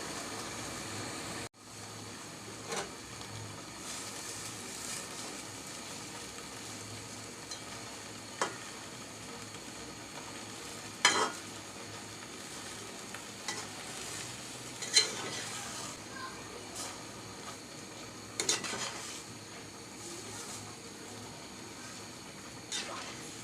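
Helencha greens simmer in masoor lentils in a pot: soft continuous bubbling and faint sizzle, punctuated by occasional spoon clinks and stirring knocks, steady and moderately quiet with no talking.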